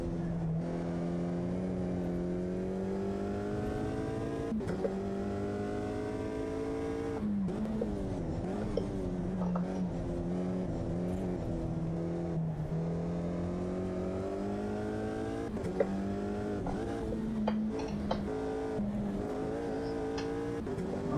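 A race car engine in the Automobilista 2 racing game holds a steady high drone. The pitch climbs and drops as the driver shifts down and lifts, then accelerates hard again, continuous and loud for the whole stretch.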